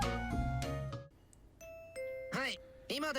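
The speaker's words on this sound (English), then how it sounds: "Hurried by the doorbell," A two-tone ding-dong doorbell chime from the Fate/Stay Night visual novel rings clearly after a burst of music, sounding twice in quick succession at moderate volume.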